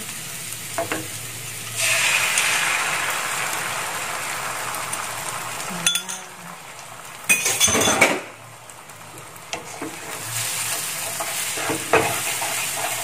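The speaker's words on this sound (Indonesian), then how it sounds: "Nah, kita aduk seperti ini ya, dikacau-kacaukan" Scrambled eggs being stirred in a hot pan: a continuous close sizzle of frying with scraping utensil strokes and occasional clinks against the pan, rising and falling as the eggs are pushed around.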